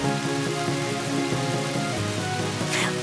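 Steady rain falls over a rainy town, a dense, even hiss that stays close and constant, with a faint musical tone underneath and no talking.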